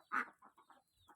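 A chicken gives a short burst of clucks: one louder opening cluck followed by several quieter, quick soft clucks, close by in an otherwise quiet setting.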